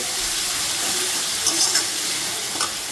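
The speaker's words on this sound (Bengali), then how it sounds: "দিয়ে দিলাম আদা রসুনের পেস্ট এবার এটাকে একটু ভাজা ভাজা করবো" Ginger-garlic paste frying in a pan gives a soft, continuous sizzle with a few light scrapes or stirring clicks, fairly close and even throughout.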